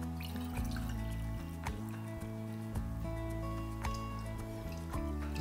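Kombu water pours and trickles into a pan while Korean temple-style glazed shiitake mushrooms are prepared, a soft steady liquid stream close by with faint kitchen clinks, no talking.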